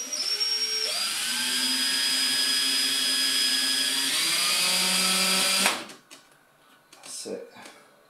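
A power drill bores a hole in a guitar pick guard at low speed, whining steadily with a pitch that shifts as the bit cuts, then stops abruptly, leaving quieter handling sounds and a short puff of blowing.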